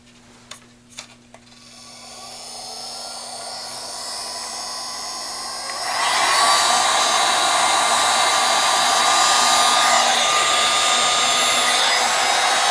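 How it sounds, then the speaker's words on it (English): Handheld hot air gun blowing steadily on a PVC longbow limb, starting after a few clicks, ramping up, then growing louder and harsher as it runs close by without pause. "in order to heat this thing up, I'm going to use this nifty hot air gun"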